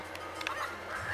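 A chicken squawks in the video game The Legend of Zelda: The Minish Cap, a brief nasal honking cry repeated a few times over a quiet game background.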